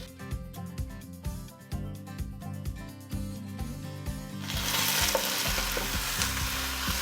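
Stew ingredients land in a hot pot and break into a loud, dense sizzle that swells and holds, following a stretch of rhythmic music-like pulses, with no voices.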